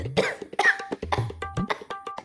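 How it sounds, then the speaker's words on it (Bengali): A person coughs several times in quick, harsh bursts during a hot-summer comedy sketch, close and loud with short gaps between each cough. "তোমার কিন্তু এক্ষুনি কাশি হবে"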